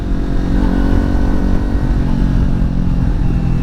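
A Kawasaki Ninja 400 being ridden on a windy day: a loud, continuous engine drone at steady revs, close and unbroken, with wind rumble mixed in and no talking.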